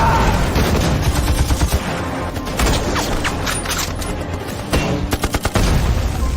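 Dense battlefield gunfire from a film battle scene in which a squad of about fifteen Japanese soldiers clashes with Chinese troops: loud, continuous volleys of rifle and machine-gun fire with sharp crackling bursts throughout, and no talk.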